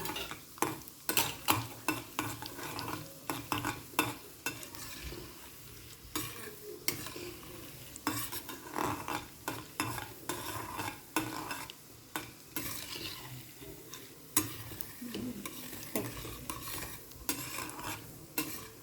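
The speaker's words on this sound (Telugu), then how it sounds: "ఇది వేగిన తర్వాత అప్పుడు ఆవాలన్నీ వేసుకున్నాం, మెంతులు అన్నీ" Mustard seeds and fenugreek frying in a pan for a ridged gourd chutney, with steady crackling sizzle and repeated scraping stir strokes of a spoon against the pan, close and continuous throughout.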